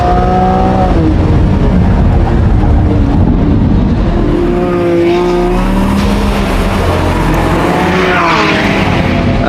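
Lamborghini Revuelto V12 supercar driven hard on a track in Corsa mode, the engine loud and close as it climbs and drops through the revs, with rising pitch sweeps between gear changes.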